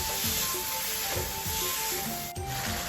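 Pork stir-fries in a wok for a Thai basil dish, with a steady sizzle and repeated scraping strokes of a spatula in a regular rhythm, heard up close with no talk.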